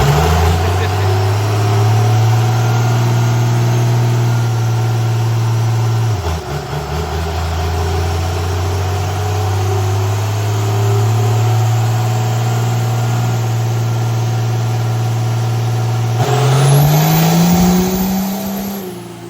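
A diesel truck engine roars loudly and steadily during a dyno pull, holding a droning, rising tone before revving higher near the end, close and dominant throughout.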